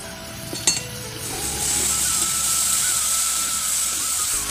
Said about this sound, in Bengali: আমি খুব ভালো করে এটা তুলে ভেজে নেব